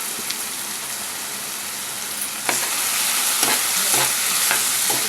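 Chicken gravy frying in oil with salt and turmeric: a dense, continuous sizzle like light rain fills the whole clip, with a few sharp stirring scrapes from about halfway, close and steady, no voices.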